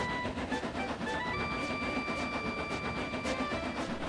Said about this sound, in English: was puffing up the line of the morning train